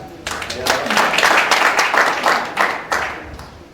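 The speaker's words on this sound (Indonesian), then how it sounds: "Kasih aplaus ya." An audience applauds at a Christian fellowship gathering, with steady, dense clapping that rises and holds, and a voice speaking over it.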